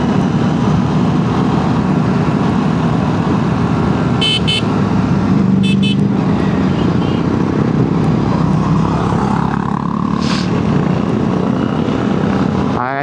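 An Aprilia motorcycle on a Sunday breakfast ride, heard as steady loud engine and wind roar throughout, with a rising whine as it passes near the end.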